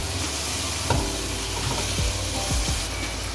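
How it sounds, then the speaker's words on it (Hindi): Taro (arvi) frying in a pan for an arvi-baingan sabzi, a steady close sizzle with a few soft scrapes and stirring clacks, no voices. "इसमें फ्राई की हुई अरबी वो शामिल कर दें और उसको अरबी के साथ भून लें"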